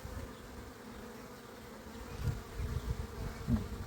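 Honey bees buzzing softly and steadily nearby, with a few louder buzzes as individual bees pass close.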